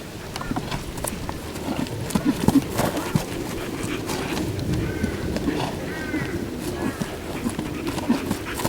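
A strong horse being worked on groundwork training, heard as steady hoof thuds and movement in a noisy outdoor setting, with people talking over it throughout.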